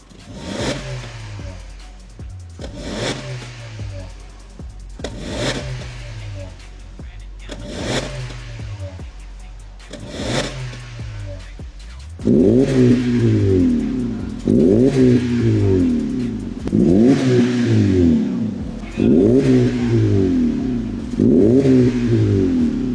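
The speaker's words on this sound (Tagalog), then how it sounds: "Panoorin po natin yung resulta ng catback exhaust using MagnaFlow muffler and MagnaFlow tips." A Honda Civic FC with a center-exit Magnaflow catback exhaust revs repeatedly in sharp bursts, the throaty exhaust rising and falling in a steady rhythm, getting louder and deeper in the second half.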